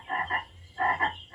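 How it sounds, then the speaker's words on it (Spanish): Two bursts of cartoon frog croaking, each a pair of raspy, buzzy croaks, loud and close with a short pause between, no voices. "Queridas ranas, por favor, quédense quietas."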